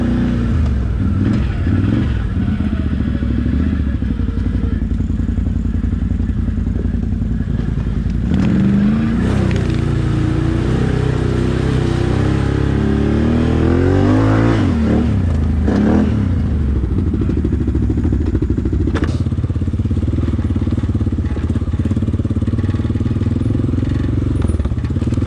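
Honda four-wheeler ATV crawling through rough ground, a close engine drone with revving swells and rising pitch sweeps, plus clattering and scraping of the machine over terrain, with brief bits of talk.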